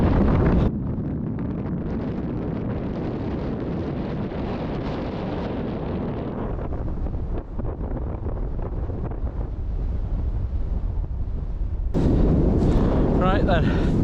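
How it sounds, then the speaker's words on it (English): Bitter wind blasts across the microphone on an exposed hillside walk in the Peak District near Lyme Park, a loud, continuous roaring buffet that rises sharply toward the end. "bitter wind is absolutely blasting in"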